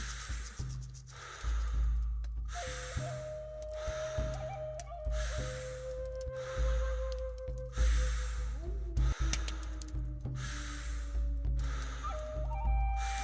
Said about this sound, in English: So just breathing.